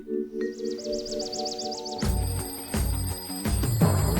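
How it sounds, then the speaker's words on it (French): Alarm ringing from inside a bedroom drawer, a trilling warble that starts softly and then gives way to loud, near clanging bursts with a steady ringing tone running through them. "il y a une sonnerie dans mon tiroir."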